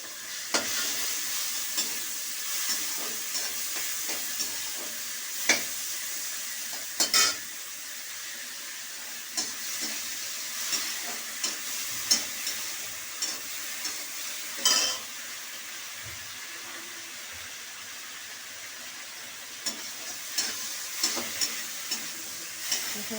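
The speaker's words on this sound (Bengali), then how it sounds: "আমি চিংড়ি মাছটা হালকা করে ভেজে নেব" Prawns fry lightly in a little hot oil in a pan, a soft steady sizzle with occasional clinks and stirring scrapes of a utensil against the pan, fairly quiet and close.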